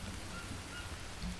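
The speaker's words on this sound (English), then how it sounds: "It's gonna rain again. It rains so often." Steady rain falls in the jungle survival video game Green Hell, an even, dense hiss with faint low patter underneath and nothing else breaking through.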